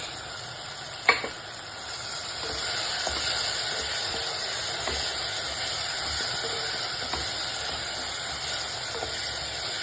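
A tomato mixture for rasam sautés with a constant close hiss and sizzle as crushed pepper goes in, a single sharp clack early on, then occasional soft stirring taps.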